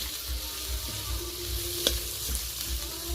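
Onions softening as they fry in a pan, a steady close sizzle with soft stirring scrapes and one sharp utensil clink partway through.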